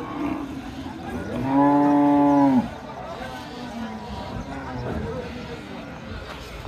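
A cow at a cattle market gives one loud, drawn-out moo lasting about a second, close by, amid background chatter and farmyard noise.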